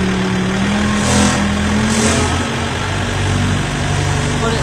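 Combine engine idling steadily while it warms up during a corn harvest in southern Indiana, a loud continuous low rumble with a faint hum on top and no speech.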